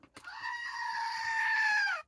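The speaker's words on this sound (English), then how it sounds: "Good morning to the goat here" A goat gives one long, loud, wavering bleat close by, held for nearly two seconds with no talking, after a brief knock just before it.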